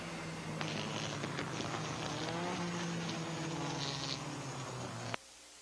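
Porsche and Morgan sports cars dueling through a chicane during a sports car race, a steady engine drone with shifting pitch that holds for about five seconds before cutting off abruptly.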